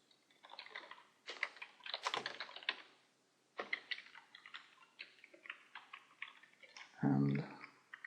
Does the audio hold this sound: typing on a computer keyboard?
yes